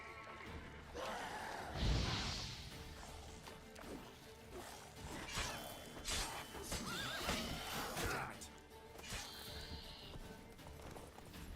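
Roach the horse from The Witcher 3 whinnies loudly near the start, a sharp neigh with breathy trailing, followed by clip-clopping hooves and scattered thuds and crashes of game action, with no talking.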